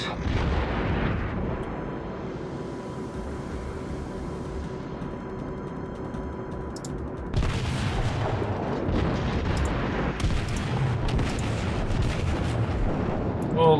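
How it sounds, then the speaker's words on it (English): Naval guns of the Kongo battleship firing in a World of Warships sea battle, heavy continuous booming and rumbling throughout, growing louder and denser in the second half with layered blasts and no talking. "All the guns are firing."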